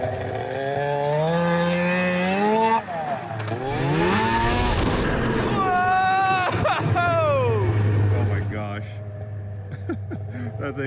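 A snowmobile engine screams at full throttle across fresh snow, its pitch rising and falling as it revs up close, with excited shouting over it before it fades off.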